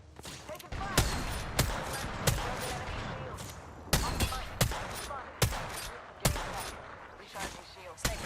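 Video game gunfire, a run of sharp loud shots in irregular bursts roughly every half second to second, with muffled action noise and faint talk underneath.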